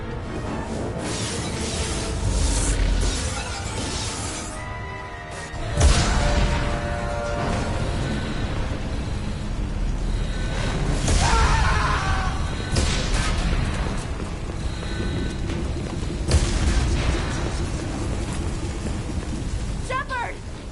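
Starship interior under attack in Mass Effect 2, with a continuous roaring hiss of fire and hull breaches, dull explosive thuds at intervals and shouted voices over the din.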